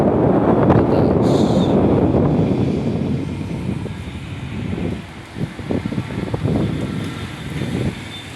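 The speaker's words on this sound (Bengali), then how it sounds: "বাতাস।" Strong wind roaring outdoors during a heavy rainstorm under dark clouds, a loud continuous low rush with gusts that ease slightly toward the end, with no talk.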